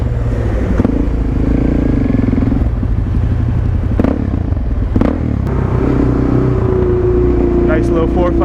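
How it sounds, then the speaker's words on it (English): A supermoto motorcycle engine drones loud and close, with wind rush and clattering bumps, as it rides behind a Bugatti Chiron and a Koenigsegg Agera RS on a California sunset drive among other supercars. "Not every day you get to ride behind a Bugatti Chiron and an Agera"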